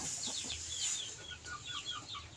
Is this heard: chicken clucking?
yes